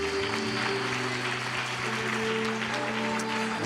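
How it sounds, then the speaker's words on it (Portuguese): A church congregation applauding during a Portuguese-language service, steady dense clapping filling the room at moderate volume with a sustained musical tone underneath. "Você pode aplaudir Jesus?"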